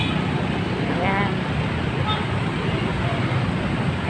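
Steady roadside traffic noise near a retail market in the Philippines, a continuous rumble of passing cars and buses with a faint horn toot, heard without talk.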